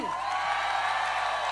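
An outdoor Pheu Thai election rally crowd in Rayong cheers and shouts for a landslide, a dense sustained roar of many voices with whoops, loud and continuous throughout.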